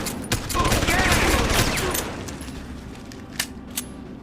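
Rapid sustained gunfire in the video game Deus Ex: Human Revolution, a dense loud burst of shots for about two seconds that thins into scattered single cracks.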